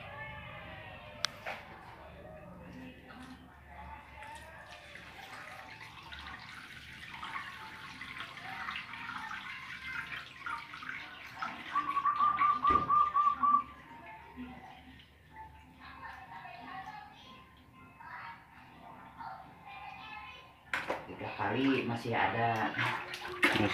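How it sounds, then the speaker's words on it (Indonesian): Water splashes and runs as sand is rinsed to wash out cricket eggs, with sloshing and pouring in bursts. A person talks intermittently over it, and a louder rush of water comes near the end. "dibilas lagi sampai bersih, sampai di pasir itu nggak ada telurnya"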